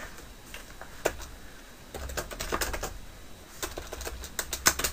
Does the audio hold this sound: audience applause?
no